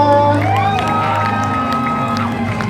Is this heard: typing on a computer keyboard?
no